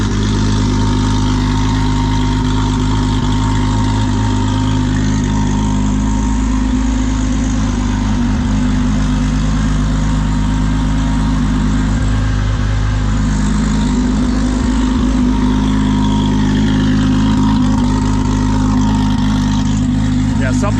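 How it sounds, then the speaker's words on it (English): A car engine idles steadily while warming up after a short drive for testing a new bump box, a continuous low rumble holding throughout at close range with no speech. "Now just let it warm up a little bit."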